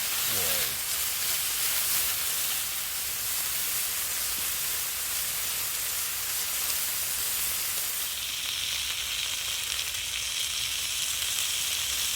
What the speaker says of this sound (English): we're going to put the Petromax plate on there to heat up and then get the burgers cooking